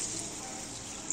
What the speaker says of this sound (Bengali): পরিমাণ মতন জল দিয়ে দিচ্ছি